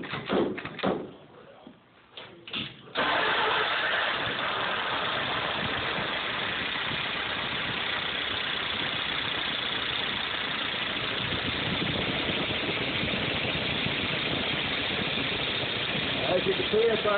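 A 636 engine cranks with a few short bursts, then catches and settles into a steady, even idle that runs on continuously, moderately loud and close.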